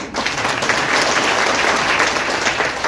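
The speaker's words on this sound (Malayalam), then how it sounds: "കൈയടി കൊടുക്കും" Hall audience at a direct-selling business meeting breaking into applause, a loud, dense, sustained wash of clapping from many hands filling the whole stretch.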